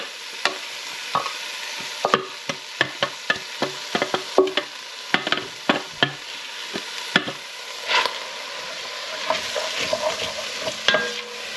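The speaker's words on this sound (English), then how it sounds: "I'm just going to fry this off just for a few minutes" Onions, garlic and celery sizzling in an oiled pan, with sharp scraping and stirring clatters at irregular intervals, a steady soft crackle underneath.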